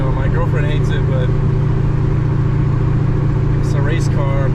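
Loud, constant low exhaust drone inside the cabin of a straight-piped 2003 Mustang GT while driving, a steady rumbling hum with brief faint chirps above it.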